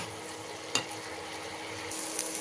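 Continuous sizzle of potatoes frying with a sharp scrape of a utensil stirring the pan, then the sizzle brightens and carries on steadily.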